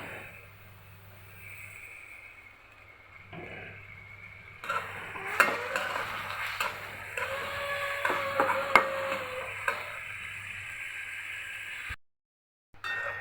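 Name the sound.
chopped onion and chillies frying in soybean oil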